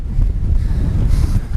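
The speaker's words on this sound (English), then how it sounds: "It's windy as hell, but hopefully you can hear me" Strong wind on a White Mountains hiking trail near Mt Chocorua buffets the microphone in heavy low rumbling gusts, loud and close, with no voices.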